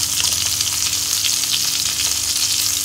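Chopped garlic and diced onion sizzle loudly in a pan for pan-fried momo filling, a bright continuous crackle with light stirring, close and steady, with no one speaking.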